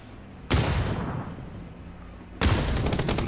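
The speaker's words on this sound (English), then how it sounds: "Some great grenades here from Mob as they go in" Two loud, close blasts from grenades in a competitive video game match, each a sudden broadband burst with a rumbling tail, spaced about two seconds apart amid gunfire.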